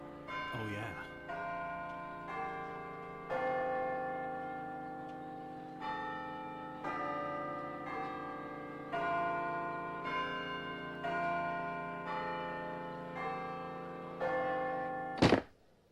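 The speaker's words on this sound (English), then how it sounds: "The chimes are ringing!" School chimes ring out in a slow melodic sequence of sustained bell tones, each strike ringing on and overlapping the next, fairly distant and soft, ending with a sharp thump.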